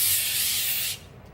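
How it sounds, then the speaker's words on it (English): A can of cooking spray hisses in one steady close burst over a tray of chopped vegetables, including Brussels sprouts, then cuts off abruptly into quiet room tone. "I'm gonna spray this with a little bit of cooking spray"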